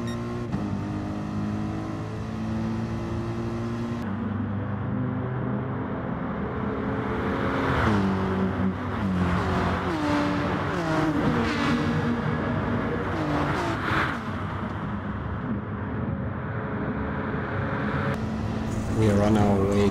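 Mercedes race car at Le Mans in Gran Turismo, engine roaring at high revs, then a cluster of rapid downshifts and rising and falling pitch under braking, before steady acceleration returns; close and continuous.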